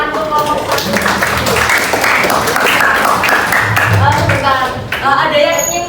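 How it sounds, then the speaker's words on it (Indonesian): A classroom group applauds in a dense burst of clapping that fills the room, mixed with overlapping chatter from students. "Beri tepuk tangan untuk ngomong"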